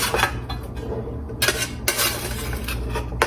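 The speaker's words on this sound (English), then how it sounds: "So I'm gonna get all this scraped in here." Chopped carrot, celery, green pepper and Vidalia onion scraped off a board into a crockpot, giving rough scraping and clinking bursts in a close, loud sequence with no talking.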